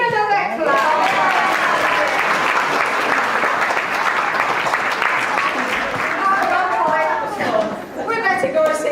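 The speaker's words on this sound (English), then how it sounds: "Give him another clap." An audience claps warmly for a young performer, a dense, steady wash of applause lasting several seconds with a brief dip near the end, with light chatter mixed in.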